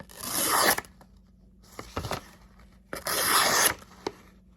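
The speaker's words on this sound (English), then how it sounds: "Let's do a little paper sharp testing on these blades." Stainless steel hunting knife blade slicing through paper, two long crisp tearing swipes with shorter rustles between them, close and clear with no talking.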